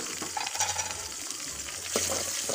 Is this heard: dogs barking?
no